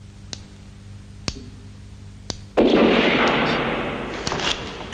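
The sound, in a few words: gunshot sound effect in front of the house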